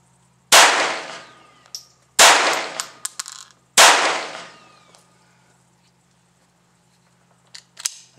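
Three sharp gunshots from a Lorcin .22lr pistol fired at a target crack in close succession, each with a short decaying ring, followed by a few faint clicks and handling sounds in otherwise quiet surroundings.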